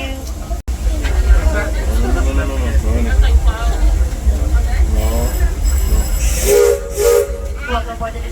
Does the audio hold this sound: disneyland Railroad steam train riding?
yes